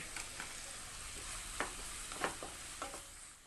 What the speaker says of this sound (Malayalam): ഇതൊന്ന് മൂത്ത് വരാൻ വേണ്ടിയിട്ട് വഴറ്റി കൊടുക്കാം